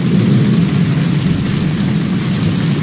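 A very strong hailstorm sweeping across the USA gives a dense, unbroken roar of falling hail and wind with a deep rumble beneath, loud throughout.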